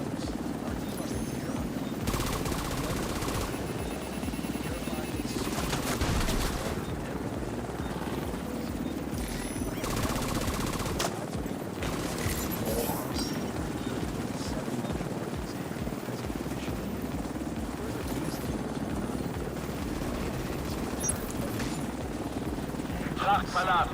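Helicopter in The Division 2 thrums with a continuous rotor drone throughout, moderately loud and steady, mixed with game effects and a voice speaking over it.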